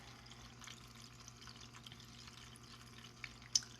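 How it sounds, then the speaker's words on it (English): A small desk fountain trickling softly, a faint continuous water burble with a low pump hum beneath and a couple of tiny splashes near the end, quiet and close. "The water noise is a fountain on my desk."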